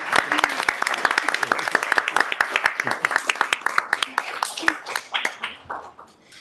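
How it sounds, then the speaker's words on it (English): People in a city council meeting room clap with distinct, individually audible hands, a modest group applauding briskly before it thins out and stops, with faint voices underneath. "I can see people want to already applaud, so let's just do it right now."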